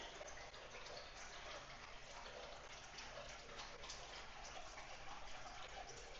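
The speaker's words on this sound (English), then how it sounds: "Now we're at the next stage and we're putting the water in" Water runs steadily into a koi fish aquarium during setup, a continuous faint gushing and splashing rush with no break across the stretch.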